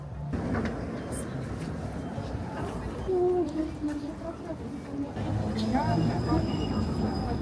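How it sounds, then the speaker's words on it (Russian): A tram passes along a Moscow street near a park, a steady rolling rumble with faint wheel squeal over general street ambience, with people talking nearby. "Один из любимейших мной видов транспорта – это трамвай."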